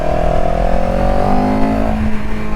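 A CFMOTO CLX 700 motorcycle accelerates hard, its engine revving up loudly and steadily through about 5,000 RPM before the pitch shifts with a gear change, close and continuous without talk.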